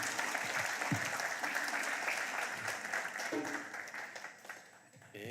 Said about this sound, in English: Let's give the Commissioner another round of applause.